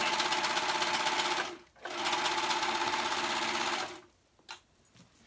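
A serger stitches a fabric sleeve seam with a fast, even mechanical whir, running in two close bursts separated by a brief stop, then halting with a few soft handling noises afterward.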